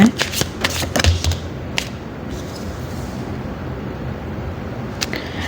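Tarot cards being shuffled by hand, a crisp riffling flutter with sharp card snaps at the start, then a softer steady shuffling rustle close to the mic.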